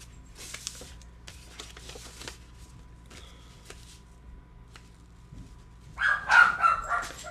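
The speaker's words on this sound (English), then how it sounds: "Whoops, there's my dogs." Dogs barking near the end, a short burst of several loud barks after a quiet stretch of faint tapping and room sounds.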